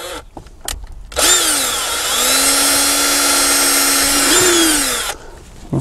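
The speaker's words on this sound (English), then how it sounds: "what I'm going to do is just drill a small hole" A power drill whirs steadily for about four seconds, drilling a small hole in a Dodge Ram truck interior, close and loud, its pitch dipping slightly as the bit bites in, after a few brief handling clicks.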